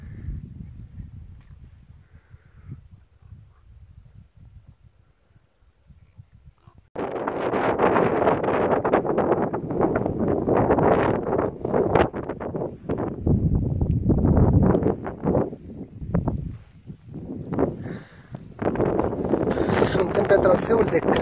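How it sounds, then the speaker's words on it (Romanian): Strong gusty wind buffets and roars across the microphone on a ridge trail in Romania's Făgăraș Mountains after a quieter start, with a person speaking intermittently beneath the blustery noise. "bate puțin vântul"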